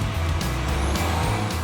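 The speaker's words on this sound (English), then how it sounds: "a snarling turbo 2-litre under the bonnet" A 1995 Ford Escort RS Cosworth with a four-wheel-drive turbocharged 2-litre engine runs loud and close, a low throaty drone with brief rising swells, alone without voices.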